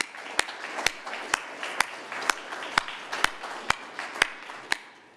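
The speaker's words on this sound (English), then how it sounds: "Would you please give them a round of applause?" Clapping for volunteers at an MIT molecular manufacturing program, sharp, evenly spaced claps about twice per second over a quiet room.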